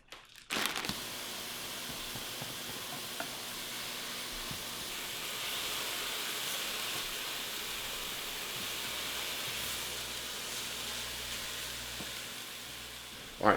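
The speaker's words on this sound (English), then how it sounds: "We could probably get this going first while I cook the turkey." Turkey sizzles steadily in a hot pan, a continuous hiss of frying that holds level for over ten seconds with faint clinks at the start and end, no talking.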